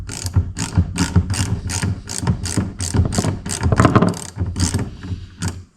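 Metal tool clicks and turns on a bolt of a Yamaha XT250 front fork during a seal rebuild, a steady run of close, sharp ratcheting clicks repeating for several seconds with the bolt spinning inside.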